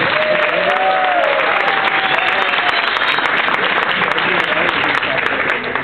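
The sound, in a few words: audience applause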